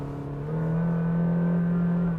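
A Honda City Hatchback's naturally aspirated 1.5-liter engine revs up with a steady rising hum, loud and close, building smoothly over a couple of seconds with no talking.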